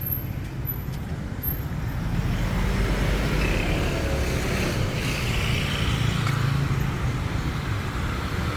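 Street traffic on a Sukhumvit soi in Bangkok, a steady close wash of passing vehicles with engine rumble and road noise and no pause throughout.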